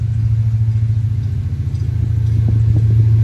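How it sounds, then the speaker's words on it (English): Cincinnati Eastern Railroad rock train locomotives rumble past close by, a deep, steady diesel drone with a throbbing low pulse that grows slightly louder toward the end, with no talking. "Listen to those locomotives."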